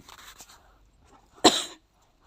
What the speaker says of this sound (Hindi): खांसी का थोड़ा फंदा सा लगा